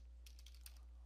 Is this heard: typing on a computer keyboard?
yes